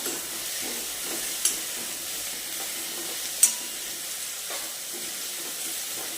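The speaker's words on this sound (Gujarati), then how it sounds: "ઓનિયન, લસણ બધું એક સાથે જ થોડું પકવા દેવાનું છે. હજી આ બધું થોડું શેકાવા દેવાનું છે." Onion and garlic frying together in a pan for palak paneer, a soft steady sizzle and hiss with faint stirring scrapes and a couple of brief clinks, no voices.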